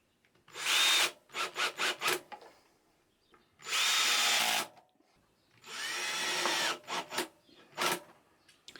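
A power drill drives screws to fix a Singer 351G industrial serger to its wooden table in short whirring bursts: a few stuttering pulses, then two longer sustained runs and a final brief burst, heard close with quiet gaps between.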